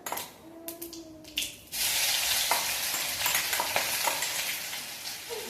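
A ground paste of green chilies, garlic and cumin dropped into hot oil, bursting into loud continuous sizzling after a few faint clinks, then frying steadily without speech.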